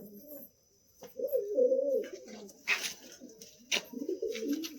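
Caged pigeon cooing close by in a series of soft, low, throaty rolling coos, pausing briefly between phrases, with faint rustles and light clicks around it.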